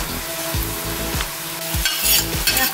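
Lagman ingredients seasoned with star anise and salt are stirred in a hot frying pan. Repeated rhythmic scrapes and knocks of a utensil sound over a constant sizzle, close and fairly loud, with no voices.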